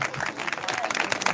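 Audience applause in a crowded hall at a devotional stage performance honoring Lord Ram, a dense steady patter of clapping filling the whole moment at close range.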